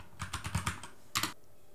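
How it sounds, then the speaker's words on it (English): Typewriter typing sound effect added in a CapCut edit: a quick burst of six crisp, close keystrikes followed after a short pause by two more clacks, alone with no talking. "Type in typewriter."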